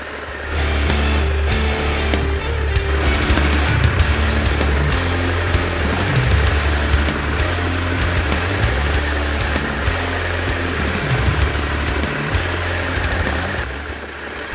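A twin-cylinder trail motorcycle putters at low revs through slow cone exercises, the engine note rising and dipping steadily as the clutch is feathered, close and fairly loud throughout.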